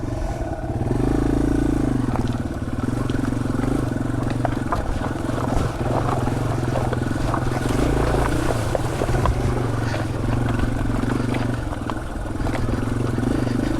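Yamaha TW200 motorcycle crossing a rocky creek with wet rocks, its engine droning steadily and loudly up close throughout, rising briefly with a throttle surge, with water and rock knocks mixed beneath the motor.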